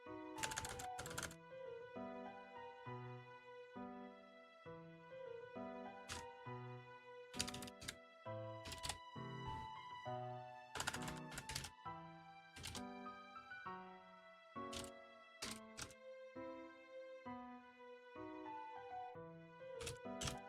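Typing on a computer keyboard while planning a route for a Fusion difficulty 5 game, with bursts of quick key clicks separated by pauses, close and crisp with no talking.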